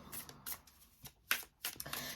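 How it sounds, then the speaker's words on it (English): Power of Surrender oracle cards being shuffled by hand, a run of soft papery riffles and slaps in irregular bursts, close and fairly quiet, with no talking. "let me get shuffling here"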